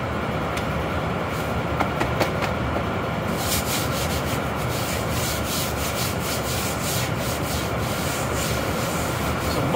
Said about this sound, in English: I'll be able to blast through the rest of this sanding so much faster now